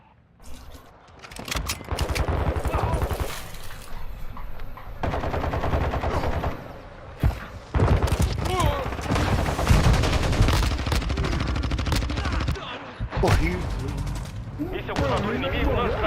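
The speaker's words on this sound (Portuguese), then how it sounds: "Tô levando tiro aqui." Gunfire in a ranked Call of Duty League multiplayer match: dense bursts of automatic weapon fire and single shots come in close succession throughout. Portuguese game voice callouts and talk are heard under and between the shots.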